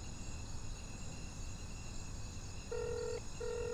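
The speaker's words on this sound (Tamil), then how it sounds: "ஏய் மச்சான் ரிங் போறா, ஆனா ஃபோன் எடுக்க மாட்டறாப்ல" An outgoing phone call ringing through: two long electronic ringback tones near the end, heard over a constant night chorus of chirring crickets.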